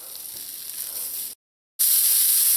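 Sausage browning in a dry pot with no oil or butter gives off a loud, steady crackling sizzle, cut by a brief moment of silence before the bright hiss comes back even stronger.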